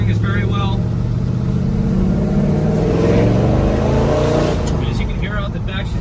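A 1966 Chevrolet Chevelle SS with a low-lift cam rumbles steadily at close range, a deep burbling exhaust note that swells slightly toward the middle, heard from the rear of the car while a voice talks over it.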